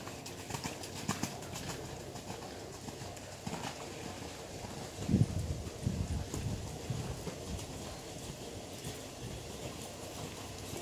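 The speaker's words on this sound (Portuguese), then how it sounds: "Senti que ele estava galopando bem até." A horse in a riding-training session moves at a steady gallop, producing soft rhythmic hoofbeats with a rough ambient background and a slightly louder passage midway.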